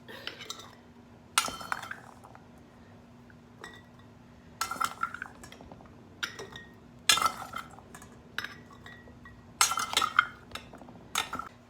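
Carrots being scooped with a 1/3 measuring cup while packing jars for pressure-canned beef stew: a handful of separate clinking, scraping bursts of metal against dishware, close and fairly quiet, with gaps of near silence between.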